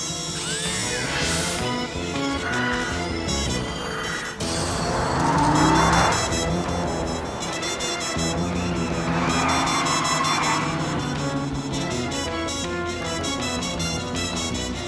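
A car races fast through a chase, engine revving hard with repeated tire squeals and skids, loud and continuous with passing whooshes.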